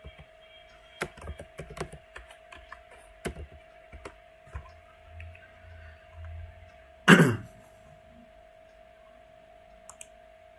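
Scattered keystrokes and clicks on a computer keyboard, quiet and close, tapping out a short search in uneven bursts over a faint steady hum, with one louder rustling thump partway through.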